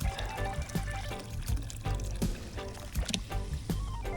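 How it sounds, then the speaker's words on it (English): Water holding dissolved pool chlorine being poured out at a resort, a close, continuous splashing and gurgling stream with uneven bursts throughout. "then I'm gonna pour out the chlorine that has dissolved"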